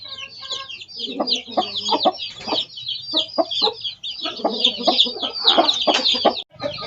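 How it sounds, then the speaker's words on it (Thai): Four-day-old chicks, a small group of five, cheep continuously in high, rapid peeps, close and fairly loud, with faint low background noise. "ลูกเกี๊ยบนะครับ สี่วันนะครับ ได้ห้าตัวนะครับผม"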